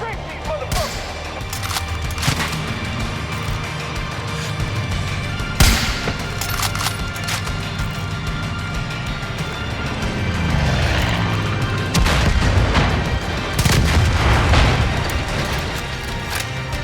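Heavy gunfire aimed at snipers on a rooftop in the video game Far Cry 5, loud and dense, with booming shots, bursts and crashes piling over a constant rumble of battle noise.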